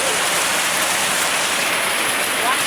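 Heavy typhoon rain pours down in a loud, steady, unbroken hiss, drumming close by on surfaces without any pause, and no voices are heard.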